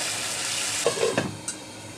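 Water poured into a hot pan of frying taro stolons (kochur loti) cooked with shrimp and hog plum, a steady sizzle that briefly flares and crackles as the liquid hits, then settles back to a hiss.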